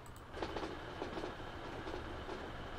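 A Class 156 Sprinter diesel train in the Transport Fever game rumbles along steadily, with a dense rolling roar and soft rhythmic clicks of wheels over rail joints.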